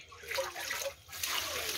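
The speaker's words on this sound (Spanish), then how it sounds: "Voy a lavar bien el apio." Tap water running over celery being washed in a home kitchen, a steady, close splashing trickle with small surges that fills the short stretch.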